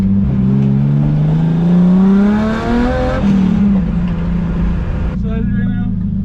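BMW E36 engine revving hard during drifting and donuts, a loud sustained drone rising in pitch then settling, steady throughout without breaks.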